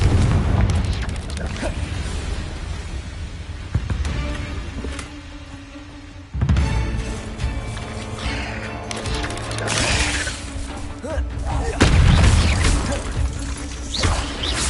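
Explosion spell Confringo cast in a Harry Potter video game, giving deep booming blasts that recur several times over a busy game soundtrack, loud and close.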